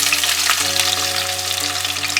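Onions hit hot oil for Ethiopian-spiced green beans and fry with a loud, steady, close sizzle that crackles evenly throughout, with no voices over it.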